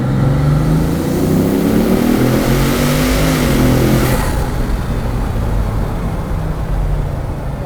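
A 2015 Bugatti Veyron Grand Sport Vitesse accelerating hard: a loud, close engine roar that climbs in pitch through the gears for about four seconds, then eases to a lower, steady drone.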